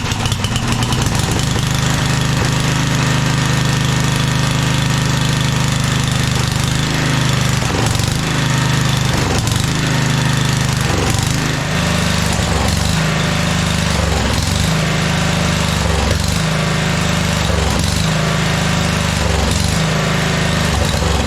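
A 1997 Craftsman II 30-inch rear-engine riding mower, needing a carburetor clean, runs loud and close, its engine surging in a regular rise-and-fall rhythm about every second or two.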